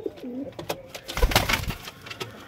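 A white fantail pigeon coos nearby in a few soft, throaty phrases, with faint rustling around it.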